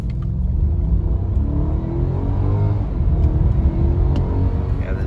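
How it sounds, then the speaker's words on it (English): A 2008 Mercedes-Benz S550 4Matic W221 V8 sedan accelerates hard in comfort mode, heard as a loud, steady engine rumble with rising tones as revs climb through a downshift. "let's do an acceleration run"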